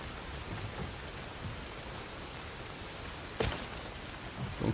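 Steady rain pours over a base in the survival video game Soulmask, a dense even hiss with a couple of soft thumps and no talking.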